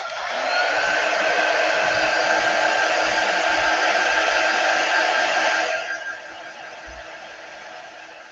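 A heat tool blows steadily and loudly for about six seconds while drying a transfer on an acrylic sign, then cuts off and leaves a quieter hum.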